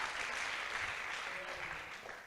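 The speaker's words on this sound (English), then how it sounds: "please give her a round of applause" Audience applause at an information night, a soft, fairly distant patter of clapping that holds steady for a couple of seconds before tapering slightly.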